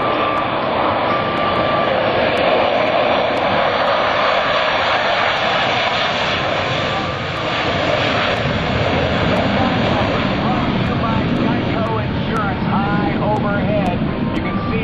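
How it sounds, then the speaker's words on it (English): A pair of jet fighters make a section takeoff at full military power, a loud, continuous roar that holds steady throughout, with a commentator talking over it. "Full military power as they accelerate through 100, 120, and 160 miles per hour before they bring the nose up."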